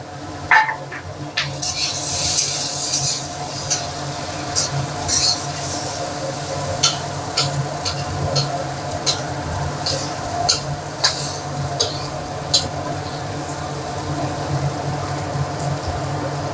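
Rice stir-fried with capsicum for Bengali bhat bhaja: a spatula scrapes and clinks against the pan in quick irregular strokes over a constant hiss of frying.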